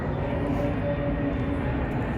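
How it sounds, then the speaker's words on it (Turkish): A steady low roar of an airplane passing over the Pendik seashore in Istanbul fills the whole stretch, broad and constant, with no talking over it. "Uçağımızda geliyor sabah sabah."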